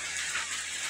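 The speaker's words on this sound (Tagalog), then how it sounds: "Kaya nagulan, kusog yung ulan." Heavy rain pours steadily as a dense, even hiss that stays constant and fairly faint, with no voices.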